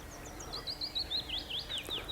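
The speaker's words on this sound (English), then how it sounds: "Can you hear the bees and the birds?" Birds chirping outdoors in a quick run of high, bright tweets with short repeated notes, fairly close, over a quiet background.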